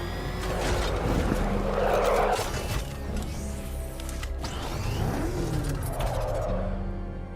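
The Batmobile from Batman: Arkham Knight arriving and revving, a loud engine surge with whooshing mechanical sweeps and a rising whine, backed by game sound effects and no speech.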